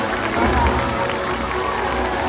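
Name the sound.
audience applause at SeaWorld orca show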